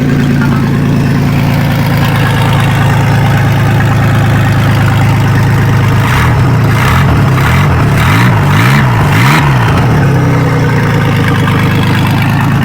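A turbocharged Isuzu 2.8 engine idling loudly and steadily, with a run of several quick revs midway as the turbo spools up and settles, close up and with no talk.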